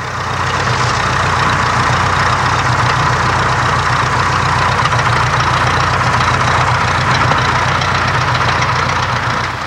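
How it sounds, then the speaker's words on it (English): An SE-5A biplane's engine runs steadily while it warms up, a loud, continuous idling drone with a low, even throb that holds throughout, close by and with no voices. "As the SE-5A's engine is thoroughly warmed up."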